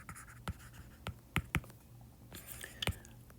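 Pen or marker writing out an equation of a line during a math lesson, a faint series of sharp taps and scratchy strokes at an uneven pace, close and quiet, with no talking.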